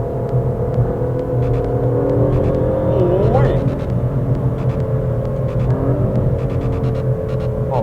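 An Aston Martin sports car, billed as the fastest and most powerful the maker has built, accelerates hard: a whirring engine note climbs and shifts through gears over a constant cabin drone, with a voice partly over it.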